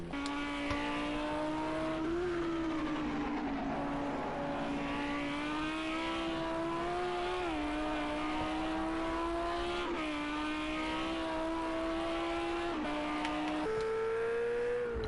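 A race car slides sideways after clipping a curb at Circuit of the Americas, its engine a loud, sustained close drone that wavers in pitch throughout, with no voices.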